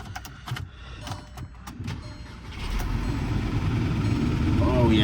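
A Dodge 1500 diesel truck cranks and fires up, the engine rising into a loud, steady idle after a few seconds of quieter clicks and shuffling, with people talking nearby.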